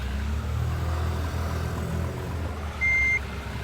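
A truck in a driving video game reverses: a single sustained high-pitched reversing beep sounds near the end over a steady low engine rumble.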